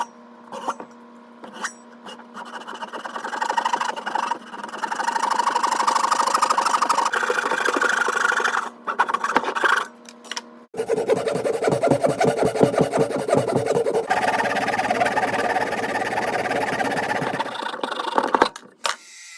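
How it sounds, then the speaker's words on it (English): A hand saw cuts into a wooden swimbait lure in a workshop, with bursts of rapid, rhythmic rasping strokes broken by short pauses and one longer, steady cutting run in the second half. "I'm going to have to saw."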